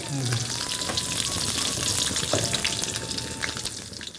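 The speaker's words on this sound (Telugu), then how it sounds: "చూడు నూనె కాగిందా ఇక జీలకర్ర ఇక కరివేపాకు ఇప్పుడు పచ్చిమిర్చి" Cumin seeds, curry leaves and green chillies crackle and sizzle in hot oil in a pan, a loud, steady frying hiss up close with occasional stirring scrapes and no talking.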